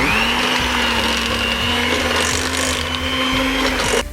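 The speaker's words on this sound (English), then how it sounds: "then we'll continue mixing at medium speed still" An electric mixer whirs at medium speed through pumpkin cake batter, a steady, unbroken motor whine that holds close and loud from start to finish with no talking.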